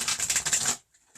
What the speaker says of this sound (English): I have my Queen of the Moon deck here, and I am just going to give these a shuffle